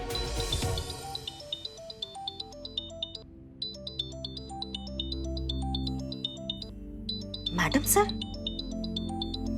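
A melodic phone ringtone plays repeatedly in a bright, high-pitched pattern, with a brief burst of louder noise partway through.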